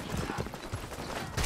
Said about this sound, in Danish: Her kom det en hest bare løpende rett forbi her